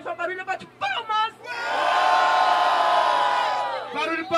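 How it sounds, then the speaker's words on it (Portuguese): Rap battle crowd erupts in a loud, sustained roar of cheering and yelling after a host's shouted prompt, with the host's voice returning as the noise fades. "Só barulho, bate palmas!"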